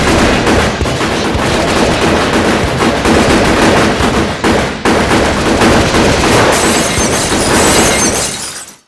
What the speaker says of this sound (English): mysterious gunmen shoot up Michael and Kay's bedroom